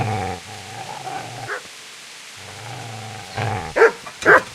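A dog in the medieval game Kingdom Come: Deliverance growls low and steadily, then breaks into a few sharp, close barks and yips near the end, with no voices heard.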